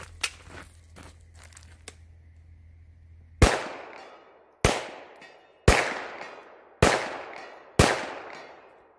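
A Ruger PC Charger pistol fires 124 grain hollow point rounds at a range, five sharp, loud shots spaced about a second apart, each ringing out with a short decaying echo after some quiet handling noise.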